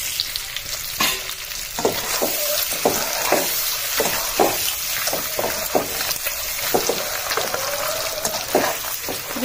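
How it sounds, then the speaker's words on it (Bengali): Eggs frying in hot oil with turmeric and chili powder, a loud close sizzle punctuated by repeated sharp scraping stirs and bursts of spattering, with no talk. "ডিমগুলো সব ছেড়ে দিয়েছি এবং ডিমগুলো ভেজে নেবো"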